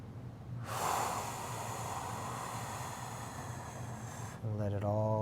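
A slow, deep inhale followed by a long, steady exhale during an abdominal breathing exercise, close and breathy, with a brief voiced sound at the very end.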